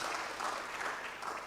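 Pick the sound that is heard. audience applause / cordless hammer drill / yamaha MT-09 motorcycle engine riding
audience applause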